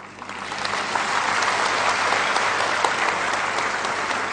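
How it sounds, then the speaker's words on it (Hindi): A large seated audience applauds together at a public talk, producing a dense, even wash of clapping that swells quickly and holds steady. "मैं चाहूंगा कि आप एक ऐसी ताली बजाएं जिससे यहां बैठे सारे लोगों का ब्लूटूथ ऑन हो जाए"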